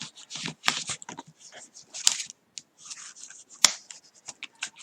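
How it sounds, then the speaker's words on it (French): A bone folder pressed and drawn along paper to crease fold lines for a handmade album, giving scratchy rubbing strokes and sharp papery snaps in irregular bursts, close-up and fairly loud. "À l'aide de mon plioir, je viens bien marquer l'emplacement de mes plis"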